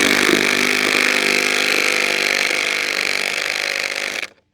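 A power drill bores into a foundation for anchors, giving a loud, steady grinding whine for about four seconds before cutting off abruptly.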